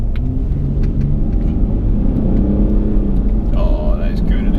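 A 2016 Range Rover Sport pulls hard on the road, heard from inside as a steady low rumble and whir that builds under the throttle. People talk over the engine noise throughout.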